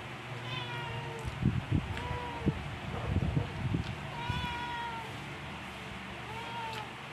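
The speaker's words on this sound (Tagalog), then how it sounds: "Mumiya, yun yung pusa kasi nangingisaw." A cat meows repeatedly, several drawn-out cries spaced across the stretch, fairly near, with people talking and eating in the background.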